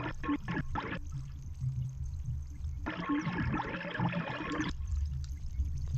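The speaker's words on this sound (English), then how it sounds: "It almost sounds like running water, doesn't it?" A synth LFO patch run through an amp with the delay unit switched off gives a hissing, trickling wash like running water, broken into bursts and pauses by chopped, glitchy gating.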